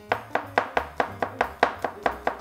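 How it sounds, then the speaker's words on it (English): A knife chopping a peeled garlic clove finely on a board, about ten crisp, evenly spaced taps close by, with no talking. "You're going to need 1 regular clove of garlic peeled and chopped finely."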